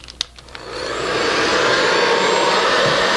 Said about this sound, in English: you don't want to put the hair dryer on too high